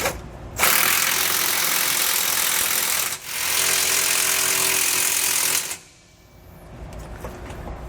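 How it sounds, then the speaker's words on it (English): Bracket bolts for a rear anti-sway bar on a 2020 Winnebago Vista are tightened with a 21mm socket, giving two loud, sustained rattling bursts from a powered tool, a short break between them, then quiet. "once you have your bracket loosely in place, we'll tighten it with that same 21mm socket."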